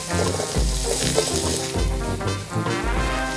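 Boiled potatoes frying in melted sunflower-olive margarine give a loud, steady sizzle with crackling bursts and stirring clatter, close up, no talk.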